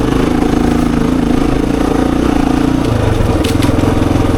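A 26-year-old Honda XR400 dirt bike ridden hard on an enduro singletrack loop, its single-cylinder engine roaring loud and close the whole time, pitch shifting slightly with throttle, a short rattle near the end.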